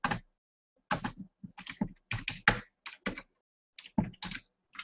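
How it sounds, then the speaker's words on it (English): Typing on a computer keyboard gives bursts of quick, close key clicks in irregular clusters separated by short pauses, clear and alone in a quiet room. "I'm typing here"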